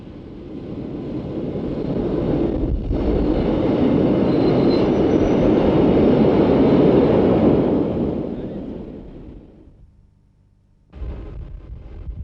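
A GE 4/4 II electric locomotive of around 50 tonnes with four motors rumbles loudly along the rails in a long steady roar that builds, peaks, then fades into near silence before a sudden burst of noise returns.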